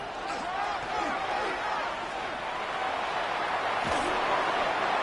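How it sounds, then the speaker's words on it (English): A football stadium crowd roars as the offense reaches third down, a dense, steady wall of cheering that stays loud and sustained throughout, with a commentator faintly audible. "this crowd into it now as we get to third down"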